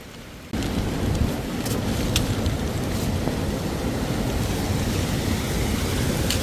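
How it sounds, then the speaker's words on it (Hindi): Heavy rain falls during a mountain trek on the way to Pindari Glacier, a dense, steady hiss of downpour that begins abruptly and continues loud and even. "मगर द्वाली आते आते बारिश भी बहुत तेज़ हो गई है।"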